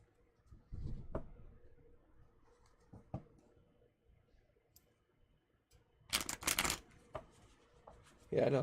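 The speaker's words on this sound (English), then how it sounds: "I'm going to do a quick shuffle here." A deck of tarot cards being shuffled at close range during a live reading: scattered soft taps and riffles, then a dense burst of quick riffling flutters, with a few clicks between.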